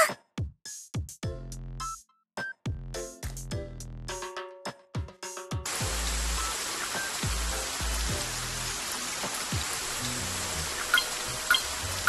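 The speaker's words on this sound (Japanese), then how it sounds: "なんか最近雨ばっかり。" Steady, even hiss of rain from the game Shiny Colors washes in after a few soft piano-like notes, then continues unbroken and close until the end.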